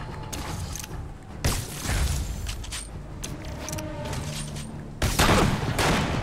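Enemy gunfire in the Spider-Man PS4 video game, a steady rattle of shots under a busy mechanical game soundscape, with two louder bursts of impact standing out.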